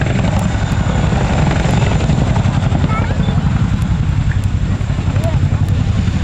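A Royal Air Force Boeing Chinook HC.6 twin-rotor helicopter flies at an air show, its loud, continuous, thudding rotor roar filling the scene with a steady pulse, while a voice can be heard faintly beneath it.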